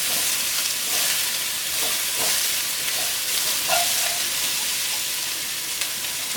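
Vegetables and garlic stir-fry in a hot pan with a steady, fairly loud sizzling hiss, punctuated by occasional scraping stirs and light clinks.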